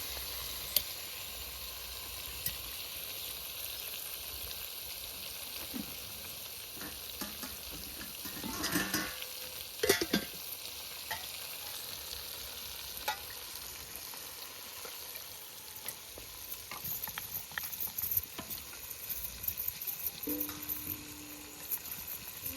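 Ground spice paste for a village chicken curry fries in a pan, a quiet, steady sizzle with scattered scrapes and clinks of stirring, busiest around the middle.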